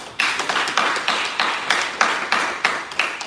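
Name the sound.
applause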